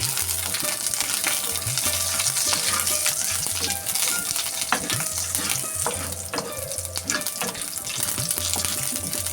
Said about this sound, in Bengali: এই ফোড়নটা এখন ভেজে নেব